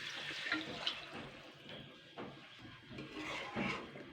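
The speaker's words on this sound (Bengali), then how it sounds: "তো এবার আমি কিন্তু জল দিয়ে দেবো, জল দিয়ে সিদ্ধ করব।" Water pouring into a pot of Bengali country chicken curry with potatoes, a soft close splash and gurgle with a few small knocks, fairly quiet and with no talking.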